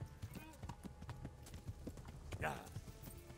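Rhythmic hoofbeats of a horse galloping in Kingdom Come: Deliverance, quick clip-clop thuds at a steady pace, fairly quiet.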